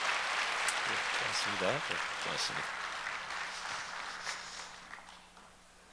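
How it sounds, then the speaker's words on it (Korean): A congregation claps during a Sunday worship service in a church. The applause starts full and gradually thins and fades, while someone speaks briefly over it. "우리 같이 한번 인사할 때 박수 한 번 더 해주세요"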